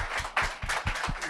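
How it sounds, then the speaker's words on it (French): Audience clapping for guests at a francophone panel event, a short burst of close, fairly loud individual claps. "Applaudissons nos invités."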